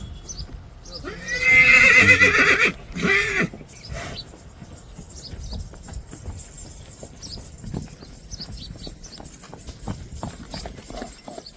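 A Sindhi colt at a horse show in Wankaner gives a loud, close, drawn-out neigh lasting about two seconds, followed by a steady rhythm of hoof clops that continues to the end.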